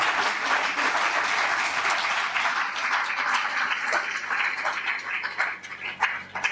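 Sustained applause from a large crowd at a lecture, dense and steady clapping filling the whole stretch with a few louder claps near the end.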